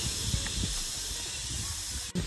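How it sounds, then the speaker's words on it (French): Waterfall in Thailand roaring as a steady broadband rush of falling water, close and continuous throughout, with a brief dip near the end. "C'est la cascade, elle est là-bas en fait."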